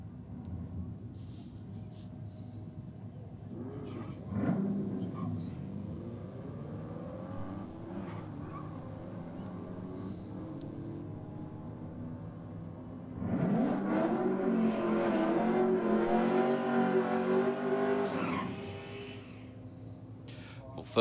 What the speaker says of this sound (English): the EB Falcon down on track now in the Aeroflow lane. About to take on this very nice little Tirana